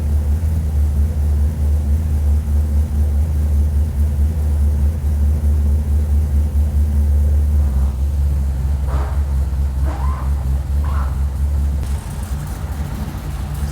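A Lexus IS200 with a swapped LS V8 idles steadily at its first start, a loud, continuous low rumble throughout. A few faint clinks come from nearby near the end.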